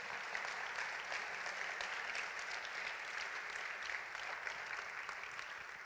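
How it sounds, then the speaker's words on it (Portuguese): A church congregation claps steadily together at moderate volume, a dense, even wash of applause lasting the whole moment without any voices on top. "aplauda aí se for para Deus"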